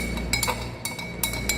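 Glassware clinking while an emulsion is stirred, with several light, bright taps and chinks spaced irregularly in a quiet room.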